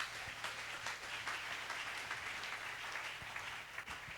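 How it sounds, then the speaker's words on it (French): A church congregation applauds during an evening family retreat service, a dense, steady wash of clapping from many people heard at some distance, fairly quiet and unbroken for several seconds. "Acclamons la parole de Dieu."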